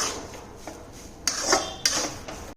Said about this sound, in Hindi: लेकिन अभी हम गरम कढ़ाई में इस तरह से बेसन को चलाते रहेंगे।